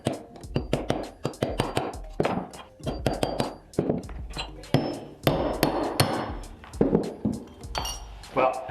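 Repeated sharp metallic hammer strikes on a punch drifting the rear sight out of a Glock slide on a table, a steady series of close, loud taps with clinks and someone talking between blows.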